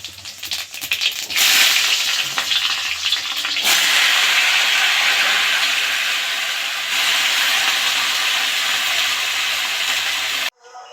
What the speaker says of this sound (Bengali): তেল গরমের উপর জিরে দিলাম আর লঙ্কা দিলাম।